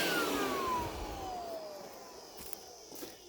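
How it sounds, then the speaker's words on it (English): A blower on a waste oil burner spins down after being switched off, its steady whine sliding lower in pitch as the airflow fades, loud and close with no talking. "I'll turn off my blower and that fire will probably go right out."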